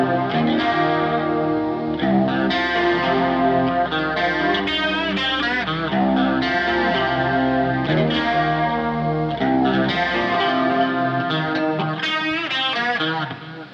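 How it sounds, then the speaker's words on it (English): Clean single-coil electric guitar riff played through delay and chorus effects, a steady, loud, sustained melodic line with shimmering repeats and no talking. "just get some nice clean sound with a little delay chorus on it"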